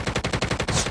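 Automatic gunfire from Call of Duty Mobile: a loud, close burst of about nine rapid, evenly spaced shots packed into a single second.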